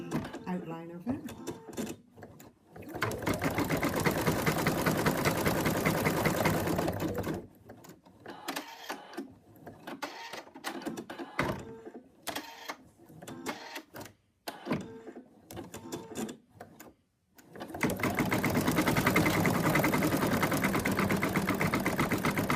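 A home embroidery machine stitches the mouth outline of a cat design, its fast rhythmic needle clatter running loud at the start and end, with a stretch of choppy stop-start stitching and talking in between.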